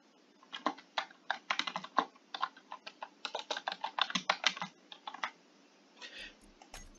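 Fingers typing a name on a computer keyboard, a quick irregular clatter of close keystrokes in bursts with brief pauses, ending in a few isolated taps, no voices.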